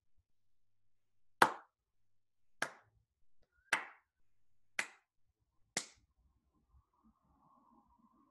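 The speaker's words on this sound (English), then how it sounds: "And I'm going to clap. You have to keep track of the number of times I clap." Five sharp hand claps ring out alone in a quiet room, spaced roughly a second apart, each crisp and close with a brief decay.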